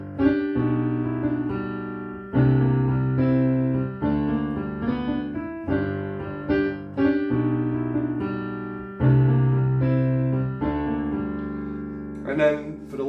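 A rocking blues piano left-hand part plays a steady, rolling bass pattern of repeated chords and low notes. It sounds loud and close over about thirteen seconds, with a brighter flourish near the end.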